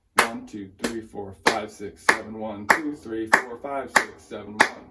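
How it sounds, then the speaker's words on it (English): Drum hi-hat closed with the foot in half notes over a 7/4 groove: crisp, evenly spaced chick strikes, about eight of them, sit under a voice counting steadily in sevens. "Another option is to play half notes with the hi-hat foot."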